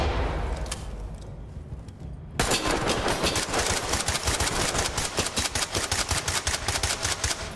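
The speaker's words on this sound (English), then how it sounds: "I'm just suppressing fire at the point" Rapid automatic gunfire in the tactical shooter game Ready or Not, quieter bursts at first, then a loud, sustained stream of suppressing fire with dense repeated shots and no talking.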